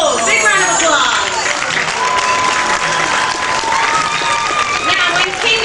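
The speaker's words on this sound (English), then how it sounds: "Big round of applause." Loud audience applause mixed with cheering and crowd chatter at a live show at Six Flags Great Adventure in 2005, steady and sustained throughout under a busy crowd.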